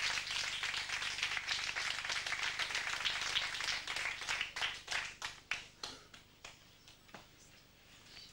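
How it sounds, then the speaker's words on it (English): Applause and clapping at a graduation-style event, a dense burst of many hands that thins out into scattered individual claps before fading. "A big round of applause for Martin Van Teesling."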